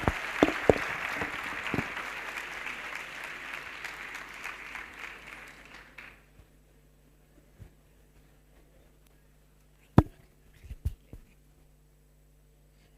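Audience applause after a speech at a youth week event, a broad wash of clapping that fades out over about six seconds, followed by near silence with a few scattered knocks.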